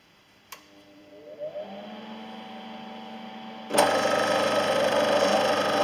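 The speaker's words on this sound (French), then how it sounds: "je peux passer à la mise en route de ma station de récupération" A refrigerant recovery station starts with a click, and a motor hum rises and settles into a steady drone. A louder, broad whooshing run then kicks in, all close up with no talk.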